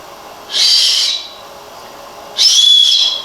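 Two shrill, breathy blasts from a small survival whistle, each about half a second long, loud and close with a short gap between them.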